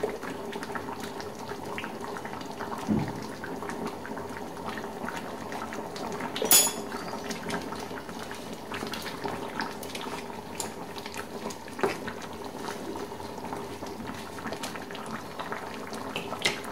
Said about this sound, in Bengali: আর আমি অল্প সময় একটু ফোটাবো।